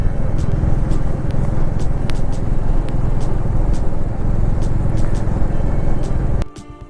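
Motorbikes ride along a road in Nepal toward the international border, giving a steady, loud engine and road rumble. Small clicks and knocks are scattered through it, and the sound drops away abruptly near the end.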